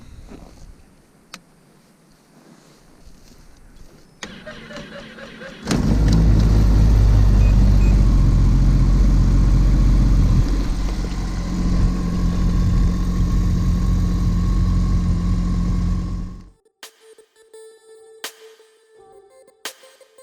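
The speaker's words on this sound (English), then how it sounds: "See how well the whole Skandic starts this morning." A Ski-Doo Skandic snowmobile engine cranks and catches on a cold morning at an overnight ice fishing camp, then runs at a loud, steady idle for about ten seconds before shutting off into near silence.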